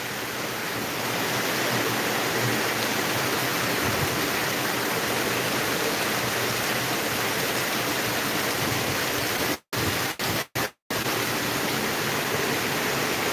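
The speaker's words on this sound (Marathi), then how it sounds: "जबरदस्त पाऊस लातूरचं" Heavy monsoon rain pours down in Latur, India, in a dense, steady roar, loud and continuous throughout, broken only by a few brief dropouts near the end.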